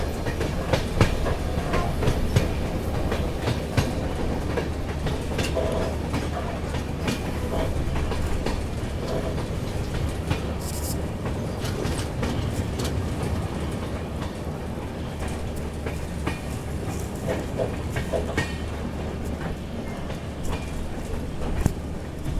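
The Agartala LTT Mumbai AC Express runs along its route with a continuous rumble and steady clickety-clack of wheels on rails, loud and unbroken throughout.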